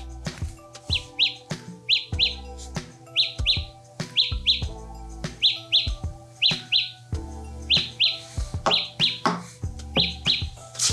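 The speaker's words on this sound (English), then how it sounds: "once you click start, it'll start making a little noise in the earbuds" Galaxy Buds Plus earbuds sounding their Find My Earbuds alert, a loud series of bright, high-pitched chirping beeps in regular bursts that repeat steadily for about eleven seconds with no talking.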